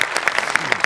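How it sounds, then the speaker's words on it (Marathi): Sharp, rhythmic clapping from a live audience applauding a comedy skit's writer, a short loud burst of repeated hand claps with no talk over it. "याच्यात तुझ्या लेखकासाठी जोरदार टाळ्या एकदा"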